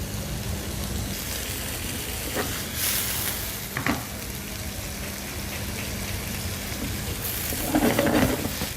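Hake and calamari fry in a pan for seafood paella, a steady close sizzle with a few sharp stirring scrapes and a louder crackling burst near the end.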